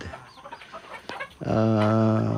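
Farm chickens at feeding time on a rural Philippine farm, a scattered clucking start that swells into a loud, close, sustained call, with no talk.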